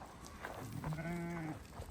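A sheep bleats clearly once near a farm flock at lambing time, a single drawn-out call lasting under a second amid faint outdoor background.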